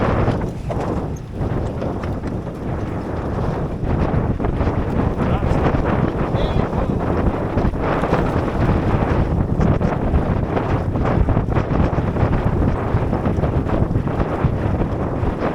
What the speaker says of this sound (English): This is crazy, this wind.